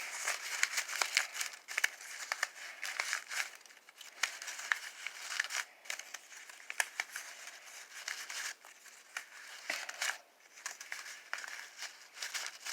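Book-page paper petals are folded out on a handmade flower, producing dense, close crinkling and rustling in irregular bursts throughout.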